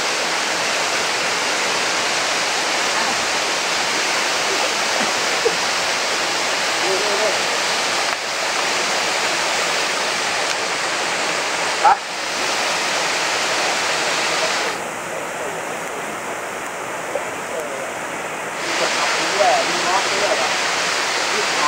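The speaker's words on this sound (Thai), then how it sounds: "นี่เป็นน้ำตก" Loud, constant roar of the Dat Fa waterfall in Surat Thani, Thailand, filling the whole stretch, broad and unbroken, with slight shifts in tone partway through.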